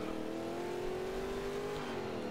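A Chevy Chevelle engine in a racing video game holds a steady, loud drone that climbs slowly in pitch, like sustained revving under acceleration, before dipping slightly near the end, with no talk over it.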